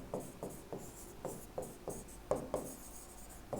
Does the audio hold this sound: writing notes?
yes